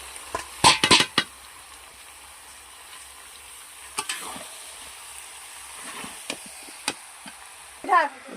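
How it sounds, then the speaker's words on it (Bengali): Cabbage tipped into a frying pan and stirred for a Bengali cabbage dish, with a few sharp scrapes and clatters of a utensil against the pan over a faint, soft sizzle, the strokes spaced out and fairly close. "বাঁধাকপিটাকে এবার এর মধ্যে দিয়ে দিচ্ছি।"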